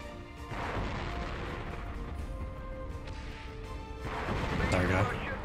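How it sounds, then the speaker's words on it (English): A grenade bursts amid heavy, constant battlefield noise in Conflict: Desert Storm 2 on the PS2, a rumbling swell near the end over a dense roar while someone talks. "a freaking grenade thrown at me"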